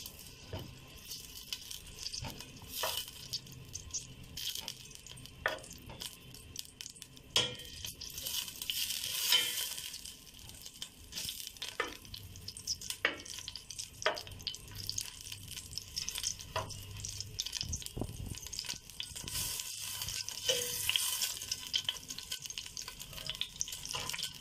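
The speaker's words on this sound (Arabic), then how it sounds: "وننزل عليها البصلتين المفرومين" Two minced onions sizzle and crackle steadily as they fry in a pan for a macaroni dish with sauce, with a few louder stirring scrapes breaking through the soft, continuous frying hiss.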